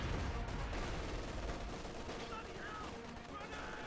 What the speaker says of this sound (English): Rapid grenade fired. Does get a decent hit there. MP4 providing some additional fire support as well.